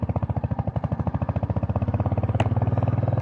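A motorcycle engine runs in a steady pulsing throb as the bike rides along the Kaptai Lake road, loud and close throughout with no talking.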